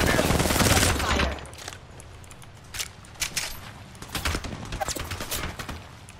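Gunfire in the battle royale game Apex Legends, a dense burst of rapid shots up front followed by scattered sharp cracks and shorter volleys, with faint voice chatter beneath.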